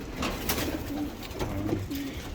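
Domestic pigeons cooing in a loft, soft repeated low coos in several short phrases over steady background bird noise, close and moderately loud with no talk.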